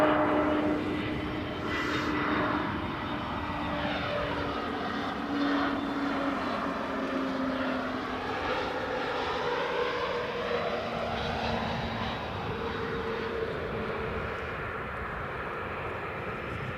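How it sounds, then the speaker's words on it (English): Boeing 787 Dreamliner at Edinburgh Airport, a sustained jet engine roar with shifting whine tones as the aircraft passes, loud and steady for the whole stretch. "Right, the Dreamliner."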